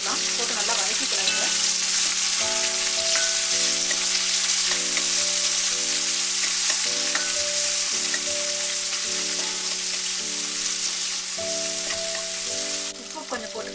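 Small onions sautéing in a pan for green pepper gravy, a steady close sizzle and crackle of frying with occasional stirring scrapes throughout, no talking.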